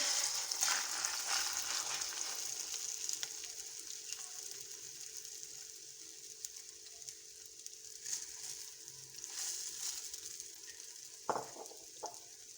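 Omelette mixture poured into hot reused oil from frying potatoes and onions, sizzling steadily in a pan, a constant frying hiss with a couple of sharp clinks near the end.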